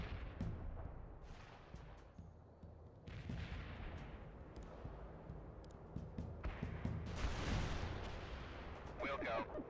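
Artillery barrage in the World in Conflict video game: repeated rumbling blasts and booms rolling one into another over a steady battle din, mostly distant-sounding, with bursts that swell louder toward the end.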